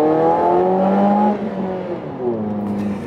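Mazda Axela car exhaust roaring under hard acceleration, a loud, close engine drone with rising harmonics that dips briefly as the revs drop, then climbs again.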